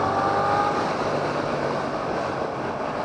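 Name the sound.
Suzuki GSX-8S motorcycle exhaust note with short muffler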